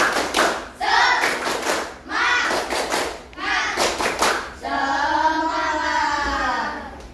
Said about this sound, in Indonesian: Tepuk semangat dulu, biar semangat kita mau pulang.